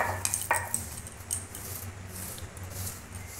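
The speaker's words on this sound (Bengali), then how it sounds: "এগুলোকে আমি শিলে একটু ভেঙে নেব, একেবারে গুঁড়োবো না," Fennel, cumin and coriander seeds are lightly crushed on a stone grinding slab, giving soft, close gritty rubbing and scraping strokes with a few sharper clicks near the start, quiet and with no talking.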